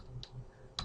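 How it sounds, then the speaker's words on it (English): Windows key tapped on a computer keyboard, two quiet crisp clicks spaced apart against a faint background hum, with no talking. "The other option of switching back and forth is just tapping the Windows key"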